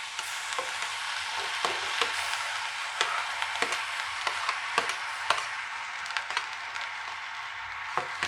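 Roughly chopped tomatoes sizzle in a pan with lightly sautéed onion, a steady close frying hiss broken by small stirring knocks throughout.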